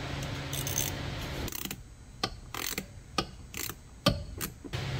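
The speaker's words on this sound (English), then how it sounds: "I got the ratchet on me at least." A hand ratchet at work on a 2nd Gen Cummins truck in winter gives off short bursts of quick, close metallic clicking, repeated at irregular intervals over a steady background hum.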